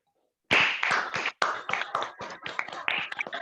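After a brief silence, a burst of sharp, close claps from online Toastmasters meeting members rings out, uneven and overlapping, continuing steadily to the end without speech.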